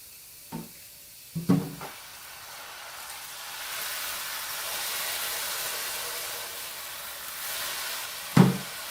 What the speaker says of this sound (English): You want to pan fry this chili powder.